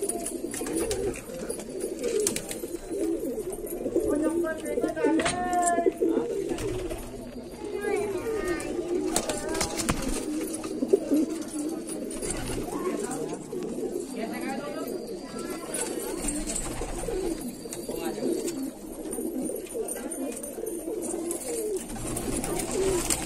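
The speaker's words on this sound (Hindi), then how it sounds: "गर्दान कबूतर है बरेली के" A flock of Gardaan pigeons from Bareilly coo steadily and close by throughout, with someone talking over the low repeated cooing the whole time.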